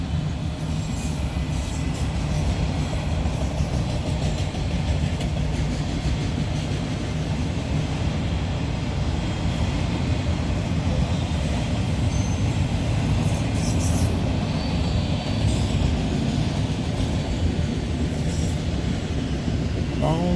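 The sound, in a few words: long train running through town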